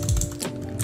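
Computer keyboard keys tapped in a short burst of a few quick, close clicks, nothing else around them.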